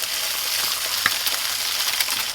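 An egg fries in a hot pan beside a burger, a steady bright sizzle with soft crackles and a few sharper pops, close and continuous with no talk.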